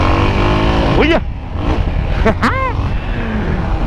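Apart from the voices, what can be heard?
Yamaha XT motorcycle engine revving during a wheelie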